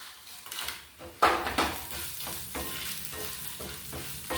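Coriander seeds, cumin and dried chillies dry-roasting in a pan, with rattling stirs and scrapes against metal, one sharp knock near the start, close and intermittent over a low background.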